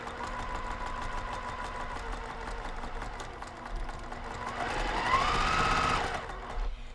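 Sewing machine stitching down a quilt block, a steady mechanical whir running throughout at close range, growing louder and faster near the end before easing off.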